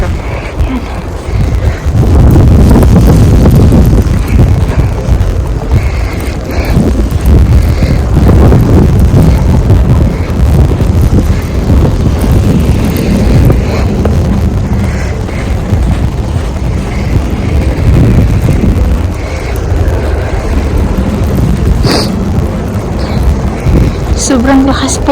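Strong wind in a heavy snowstorm in Norway roars and buffets the microphone for about 25 seconds. The gusts are loud and rough, with a voice speaking faintly under the noise at times.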